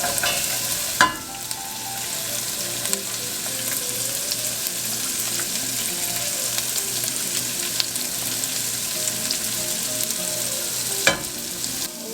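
Vegetables sizzle in hot fat at the bottom of a soup pot, a steady crackling hiss with a few stirring knocks, close and uninterrupted, no talking.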